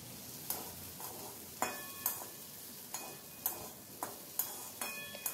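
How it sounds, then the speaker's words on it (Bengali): Potatoes are stirred and fried in a pan, with a steady soft sizzle and regular scraping knocks of a spoon against the pan, roughly every half second. "খুব ভালোভাবে আলুটাকে নাড়াচাড়া করে ভেজে নিচ্ছি।"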